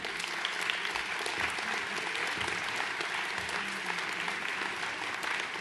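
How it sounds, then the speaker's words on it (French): Townspeople at a municipal New Year's wishes ceremony clap together for the candidates on the lists in the municipal elections. The applause is soft, even and sustained, with no talking over it. "On peut les applaudir collectivement parce que c'est un engagement difficile."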